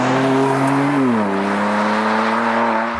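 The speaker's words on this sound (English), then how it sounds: "it basically creates what you hear coming out of the back of an S55 powered car" A BMW M2 Competition with the S55 engine drones a steady, loud exhaust note, its pitch dipping slightly partway through before holding an even hum and cutting off abruptly at the end.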